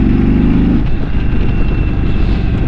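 A 2022 Indian Super Chief Limited motorcycle engine in sport mode runs loud and close, a steady idle that opens up into throttle revs around 2,500 to 3,000 rpm and holds there, with no talk.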